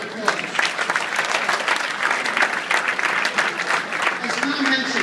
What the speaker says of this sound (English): Let's give our governor a great round of applause.